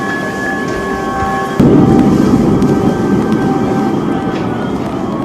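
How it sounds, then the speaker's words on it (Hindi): Distant explosions in Kyiv during wartime shelling form a sudden loud low rumbling boom that rolls on for several seconds over steady outdoor background noise, with no one talking. "दूर दूर तक धमाकों की आवाज सुनाई दे रही है"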